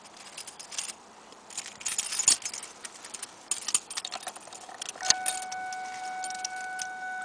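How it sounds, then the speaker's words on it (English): A large bunch of keys jangles and clinks repeatedly up close inside a parked car, bursts of metallic rattling coming and going over several seconds, joined near the end by a steady electronic warning chime from the car. "A lot of keys."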